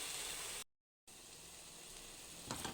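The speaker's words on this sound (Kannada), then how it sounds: "ಈಗ ರುಬ್ಬಿರೋ ಮಸಾಲೆ ಹಾಕ್ಕೊಂಡು ಫ್ರೈ ಮಾಡ್ಕೊಳ್ಳೋಣ" Ground masala paste frying in oil for egg bhurji, a steady close hiss of sizzling that breaks off briefly near the start and then continues evenly.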